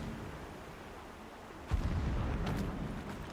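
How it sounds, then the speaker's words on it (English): A low, muffled boom rolls in from afar during a Horizon Zero Dawn game session, followed by a sustained rumble and faint crackling debris, heard alone under a steady ambient bed. "Explosions in the distance."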